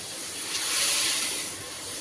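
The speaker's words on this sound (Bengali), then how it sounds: "মশলাটা একটুখানি ভেজে নিই," Spice masala fries in a little water in a pan with a steady, close hiss that swells slightly in the middle, and no talking is heard.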